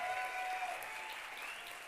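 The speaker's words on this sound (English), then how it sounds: "So another round of applause for that." A round of applause in a city council chamber, steady and continuous, heard faint and somewhat distant, with a thin tonal hum running underneath.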